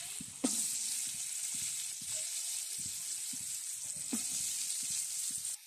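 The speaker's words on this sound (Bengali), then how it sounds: "আলুগুলো আমার সুন্দর করে ভাজা হয়ে গেছে" Potato pieces fry in hot oil seasoned with turmeric and salt, giving a steady, close sizzle with soft scattered pops and a couple of clinks from stirring.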